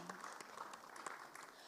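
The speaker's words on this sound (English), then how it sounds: "Once again, welcome and put a huge round of applause for Gita Balakrishnan." Applause from the audience at a real estate awards and conclave panel, a steady wash of many hands clapping that holds evenly for under two seconds.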